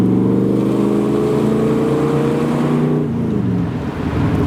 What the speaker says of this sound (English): the hum from that 454, especially when it just snap, crackles, and pops